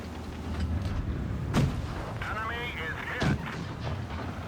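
Tank cannons firing high-explosive rounds in World of Tanks Blitz, with T1 Heavy and Tier 1 tanks in battle: two loud booming shots about 1.7 seconds apart over a steady low engine rumble, with a ringing metallic tail after the first.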